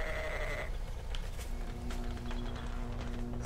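Sheep bleat in the survival video game 7 Days To Die, close and steady over a dense, noisy game soundscape with no talking.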